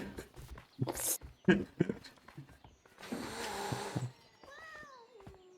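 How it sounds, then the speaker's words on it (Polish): A wild cat in the video game A Way Out gives a clear, drawn-out meow near the end, after shuffling footsteps and soft snuffling sounds. "To jest chyba rzeczywiście dziki kot."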